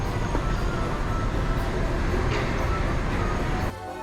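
Inside Union Station, the large train station in Washington D.C., a constant loud hall rumble and crowd hubbub carry on steadily, then drop abruptly to a quieter hum just before the end.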